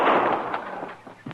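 A single gunshot in a Western drama, a sharp loud crack at the start that trails off into a decaying rumble, with a faint thump near the end and no speech.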